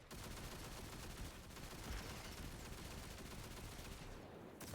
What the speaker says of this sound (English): Rapid fire glaive.